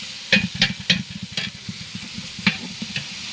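Chopped onions frying in oil while a spoon scrapes and stirs the pan, with a run of sharp clinks over a steady close sizzle and no talking.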